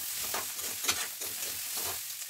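Onions and small fish fry in a pan, a continuous low sizzle broken by several scraping stirs of the spatula, close and fairly quiet, with no voices.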